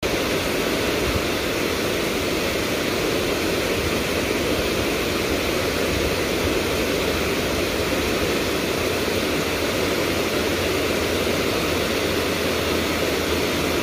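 A waterfall roars steadily at a river fishing spot, a dense unbroken wash of rushing water filling the whole stretch at constant loudness, with no voices.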